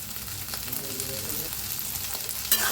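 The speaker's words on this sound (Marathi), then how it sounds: "टाकायचा आहे बटाटा, छान असं भाजून घ्यायचं" Diced potatoes roasting in a hot pan for a fasting thali, giving a continuous soft sizzle and crackle with faint stirring scrapes, ending in a brief louder clatter.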